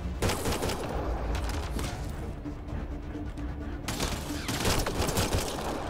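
Gunfire in Mass Effect Andromeda, dense rapid bursts of shots and crackling impacts that keep up without letting up, loud throughout with heavier volleys at the start and end.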